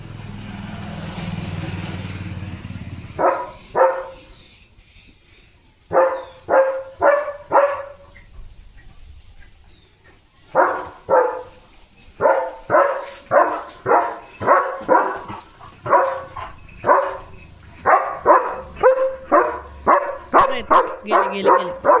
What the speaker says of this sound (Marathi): आणि लिओनी पोज घेतलेली आहे भुंकायला.